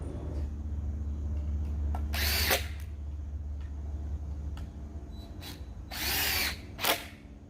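A power drill drives screws into the foot of a Feeter Teeter balance toy, two distinct bursts of whirring close by with a steady low hum underneath and quiet handling in between.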